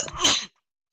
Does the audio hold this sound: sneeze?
yes